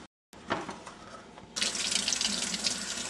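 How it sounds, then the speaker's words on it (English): Tap water runs for washing fresh apricots for homemade jam, first as a soft trickle and then as a louder, steady hiss of water splashing into a sink. "First, we're going to wash our apricots."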